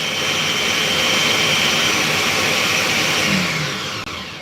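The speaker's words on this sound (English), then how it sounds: "I'm trying to peel my beans using my blender." A kitchen blender running steadily as it grinds beans to peel them for akara, a loud continuous motor whir with a brief slowing near the end and no talking.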